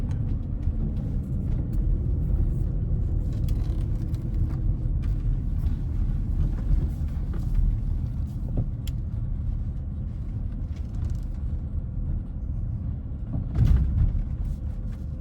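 A Porsche Cayenne with its stability and anti-lock braking system failed and disabled rolls along, reversing on normal brakes; a steady low engine and road rumble runs throughout, close and continuous, with a brief louder thump near the end.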